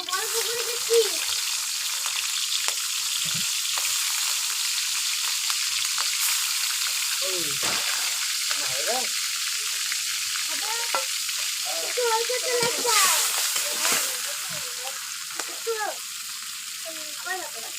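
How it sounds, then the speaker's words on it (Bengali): Washed shrimp hit hot white oil in a pan, giving a steady crackling sizzle throughout, with occasional stirring scrapes and a voice talking over it. "সাদা তেল দিয়ে দেবো ধুয়ে রাখা চিংড়ি মাছগুলো দিয়ে দেবো।"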